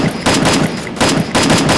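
Gunfire in the Free Fire battle royale video game, loud bursts of rapid automatic shots coming in repeated volleys with short pauses between them.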